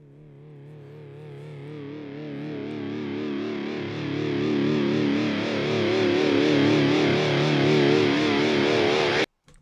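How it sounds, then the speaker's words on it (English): Reversed, distorted guitar swells steadily for several seconds, growing louder with a wavering, sucking quality before cutting off abruptly. "I used reversed guitar tracks on there just to kind of get this kind of sucking effect into the next chorus"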